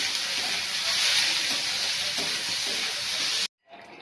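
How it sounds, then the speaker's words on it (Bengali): A spice paste of ground ginger, green chilli and cumin is stir-fried hard in a pan, giving a loud, steady sizzle with stirring scrapes for about three and a half seconds before it abruptly stops and a fainter hiss returns. "এটা একটু ভালো করে কষিয়ে নিই।"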